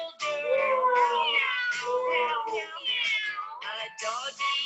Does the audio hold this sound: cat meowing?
yes